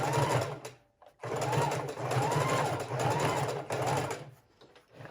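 A sewing machine set up in a living room stitches a fabric book cover in several short, rhythmic runs of rapid needle chatter, separated by brief pauses.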